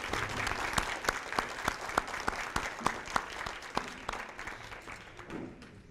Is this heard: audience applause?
yes